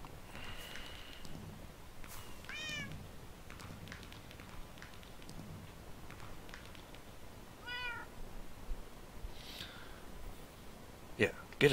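Several cats meow in short bursts spread across the clip, some near and some farther off, over a steady outdoor background with faint voices.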